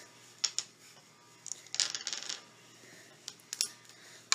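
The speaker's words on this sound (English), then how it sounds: "I'm gonna set my dice again, Becca." Dice set down on a table clatter in a few short, light bursts, small hard pieces tapping and rattling against the surface nearby, with quiet stretches between and no talking.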